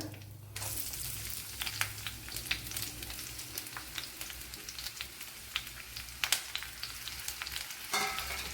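Two finely chopped medium onions drop into hot oil for chicken mappas and at once start a loud, close sizzle that keeps crackling, with occasional stirring scrapes and clicks.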